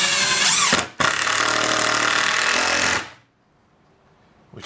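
Power drill driving big screws into the wood of an outhouse, a loud close whirring burst that briefly stops, then runs again for about two seconds before cutting off to near silence.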